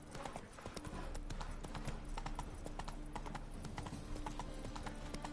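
Hooves of the horse Roach clip-clop in The Witcher video game, a steady rhythmic trot over ambient game sound with soft background effects and a faint whinny.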